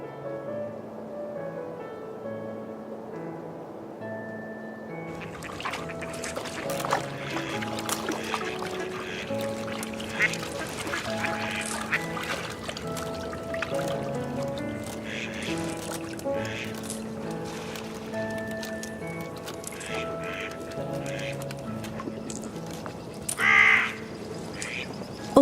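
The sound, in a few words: birds at a winter pond at Chambord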